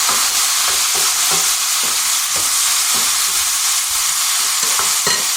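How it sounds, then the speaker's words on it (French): Loud, constant sizzle as white wine hits a hot pan of sautéed rabbit for hunter-style lapin chasseur, with a utensil scraping and stirring in irregular knocks throughout, close up and without talk. "Là, je prends mon vin blanc. Je déglace."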